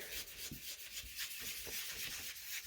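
Ink being rubbed into a paper tag for a Halloween tag-hinged flip book, a steady soft scrubbing with repeated short strokes, close and continuous, with no voices.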